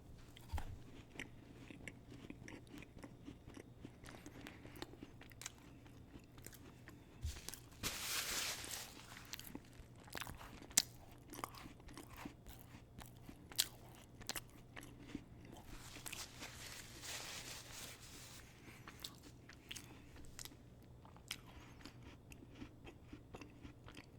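Someone bites and chews a homemade snowball cookie, with soft crunching and mouth sounds repeating quietly and close up. Two brief louder bursts of broadband noise break in along the way.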